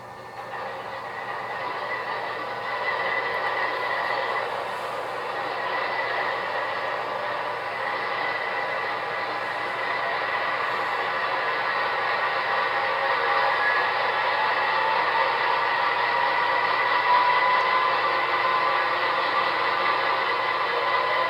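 An MTH HO-scale ES44AC model diesel locomotive runs its sound-decoder startup: a steady, rising diesel engine drone with a faint mechanical whine, getting slightly louder over about twenty seconds, with no talking.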